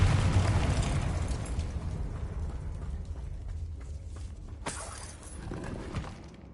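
A Confringo spell blast in Hogwarts Legacy sets off a loud, sustained explosive rumble with crackling debris. A sharp burst comes near the end as the roar fades.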